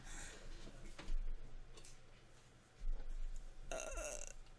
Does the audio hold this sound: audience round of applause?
no